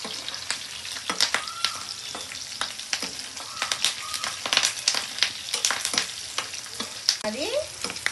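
Chopped onions fry gently in a pan over a low flame, giving a steady soft sizzle dotted with sharp crackles and the occasional scrape of a spatula stirring, close up with no voices.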